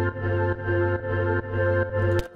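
A chopped music sample played dry without chorus or filter effects, looping in even sustained phrases with layered harmonic tones and a brief bright burst near the end, no talking.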